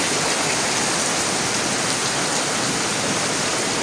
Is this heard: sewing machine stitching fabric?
no